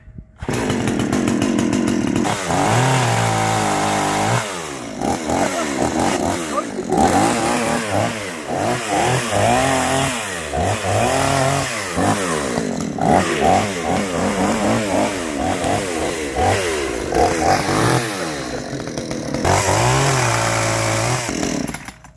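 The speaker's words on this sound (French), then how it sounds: "c'est pour ça que j'ai acheté une bonne petite tronçonneuse, 45 cm3, neuve" A new 45 cc gasoline chainsaw sputters to life and runs loudly, revving up and down repeatedly with a rough, buzzing engine roar throughout.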